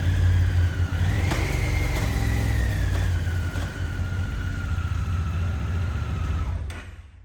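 A 2022 Honda NT1100 motorcycle engine on a test ride with a quickshifter upgrade: a steady, close engine drone with a rising whine as it accelerates, fading out at the end.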